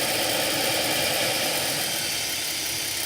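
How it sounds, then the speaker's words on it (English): A GMC Safari (Astro AWD) engine idles smoothly after a tune-up, with a steady broadband whoosh of air being drawn through a cone filter on the cold air intake, close and continuous. "That little sucking noise you hear is from the so-called cold air intake."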